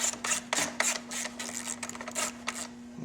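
Bolts are worked loose on a motorcycle during a 23-inch wheel package install, giving a run of quick, close metallic clicks and rattles in short bursts over a steady low hum, with no talking.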